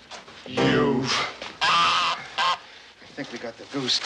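A goose honks loudly and repeatedly in close, harsh bursts, with a few shorter calls near the end and brief gaps of quiet between them.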